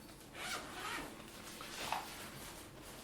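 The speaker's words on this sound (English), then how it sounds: "Let me unzip it here." A zipper is pulled open on the case of a folding travel practice piano. It makes a few quick, soft rasping strokes close by, quiet with no talk over it.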